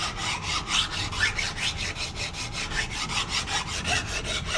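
Hand file drawn with force across a zinc plate, steady rhythmic rasping strokes about four per second, close and continuous, without talk.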